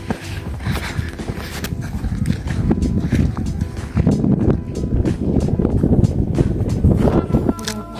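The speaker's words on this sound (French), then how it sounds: "Il y a beaucoup de vent." Strong wind buffets the microphone on a mountainside among cacti, making a loud, continuous low rumble with gusting surges and scattered rustling throughout.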